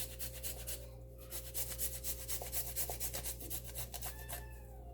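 Fresh ginger and garlic are grated over mutton keema, a quiet, rapid rhythmic rasping of short strokes against a grater, steady and close with a faint background hum.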